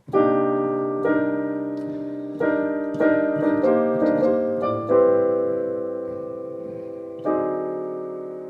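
Jazz piano plays a series of rich drop 2 voiced chords, each struck and left to ring and decay, at an unhurried, uneven pace with no voices.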